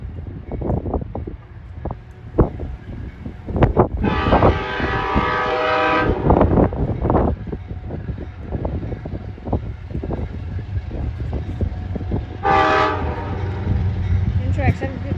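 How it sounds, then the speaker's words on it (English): Amtrak P064 locomotive passing slowly at Fairport, sounding two loud horn blasts, a long one and a shorter one later, over steady rumbling rail noise with clattering wheels. "Going slow, we can get an awesome horn show out of it."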